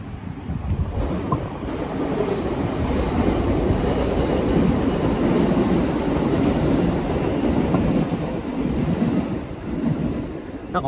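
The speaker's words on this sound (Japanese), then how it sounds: "多分ここのマンションに反射してこっち側から音が聞こえるんだよね、電車の音が" A steady, loud rumble of a train rolling past in Atami, Japan, echoing off a nearby apartment building, continues throughout, a broad roaring wash with faint rhythmic clatter and no clear start or end.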